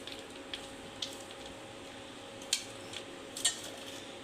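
Onion, half a tomato and green chili squished together by hand as a side for biryani, a faint soft mashing with a few light clicks and taps at close range, no talking.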